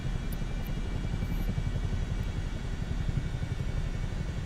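A Chinook helicopter flies over a neighbourhood in Microsoft Flight Simulator 2024, giving a steady low rotor throb and engine drone that stays loud and constant throughout, with no voices.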